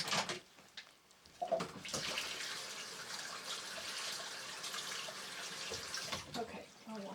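A dish washed under a running kitchen tap, a steady close hiss of flowing water with faint clinks and splashes, briefly interrupted near the start.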